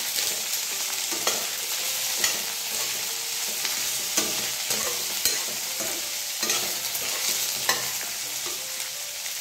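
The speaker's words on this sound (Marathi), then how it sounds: "आता याच्यामध्ये मी हिंग थोडासा जास्त घालते। व्यवस्थित असं परतून घ्यायचं आहे।" Green chillies stir-fried with asafoetida in oil in a pan, an even crackling sizzle broken by scattered spatula scrapes and taps at a close, moderate level, with no voices.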